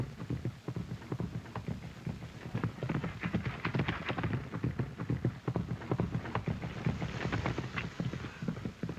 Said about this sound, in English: Mr. Fenton's giving his horse a workout first.